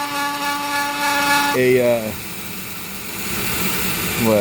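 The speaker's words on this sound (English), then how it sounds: "a bit of a trough here and drill through" A high-pitched Dremel rotary tool whines steadily, its pitch dropping as it bites into purpleheart wood while drilling through a ring, then winding back up near the end.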